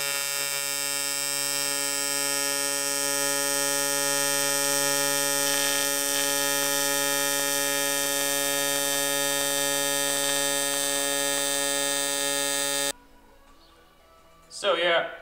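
Welding dabs on a new aluminum sheet give a loud, steady electric buzz with a strong tonal hum. It runs unbroken for about thirteen seconds, then cuts off, and brief talk follows.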